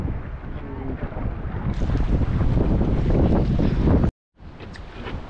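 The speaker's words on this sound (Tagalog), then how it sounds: "lakas ng hangin" A strong wind roars steadily across the microphone aboard a boat at sea near rocky islands off the Pacific, mixed with engine rumble and water noise, and the sound cuts out briefly near the end.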